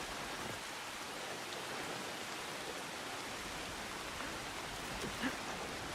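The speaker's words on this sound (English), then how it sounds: "Now that it's raining, everything changes." Steady rain falls in the video game Assassin's Creed Shadows, a soft, even wash of hiss with faint patter, continuous and fairly quiet.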